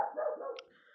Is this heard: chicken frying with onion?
no